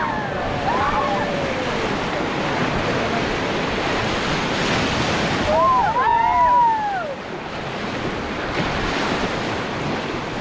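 River rapids roar steadily around a raft at Dandeli, a loud continuous rush of water with wind buffeting. Voices and shouts rise briefly above the churn.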